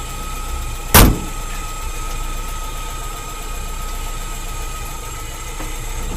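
A UAZ 3741 van idles off-road with a steady, close engine rumble, broken near the start by a single sharp thud like a door shutting, then the idle carries on evenly.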